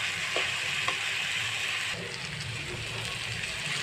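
Potol, jackfruit seeds and potato frying together in a pan as a bhaji, giving a steady close sizzle with occasional scraping clicks from stirring.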